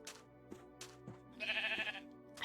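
Several short sheep bleats from Minecraft, a few spaced calls followed by a longer, louder wavering bleat, clear with no talking.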